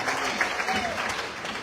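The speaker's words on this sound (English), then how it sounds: "Please give them a big hand clap." Applause from the audience at the NUP Diaspora Convention in Chicago, a steady crowd clapping that lasts the whole short stretch at moderate loudness, with a faint voice mixed in.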